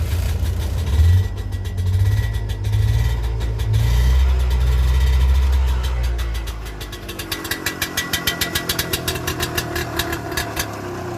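Old car engine with the choke pushed in, running low and rough, then settling into a quick, rhythmic idle that pulses steadily, loud and close.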